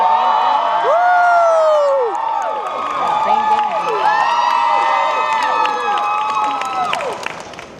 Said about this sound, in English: If you cheer louder, she'll come out.